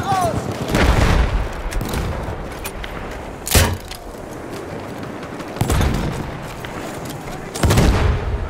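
Grenade blasts and heavy booms in Battlefield 1 combat, several loud explosions spaced a couple of seconds apart among gunfire, with shouted voices in between.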